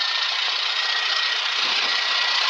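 A light aircraft engine idles at about 1000 rpm during shutdown checks, a steady, even drone heard from inside the cabin, continuous and unbroken, with no talk.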